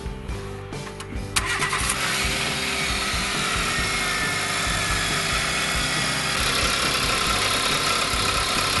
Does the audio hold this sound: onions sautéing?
no